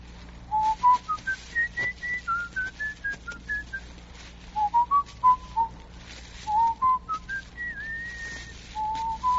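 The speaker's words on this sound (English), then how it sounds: "What's that you're whistling?" A person whistles a wandering melody in a radio drama, in clear, sliding notes, phrase after phrase with short pauses, close and fairly quiet over a low steady hum.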